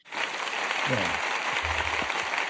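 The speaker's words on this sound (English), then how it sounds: "That's when you need to hit the applause button" Applause sound effect triggered from a button, a steady wash of clapping and cheering that fills the whole short stretch at even loudness, with a few low voice-like bursts showing through partway.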